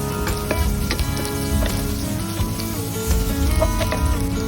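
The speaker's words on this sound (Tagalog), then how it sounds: "mag-prepare muna tayo at mag-isa muna tayo ng ating bawang" Garlic, then onion, sautéing in a pan for sizzling squid, a dense, loud, continuous sizzle and crackle of hot oil with faint scraping throughout.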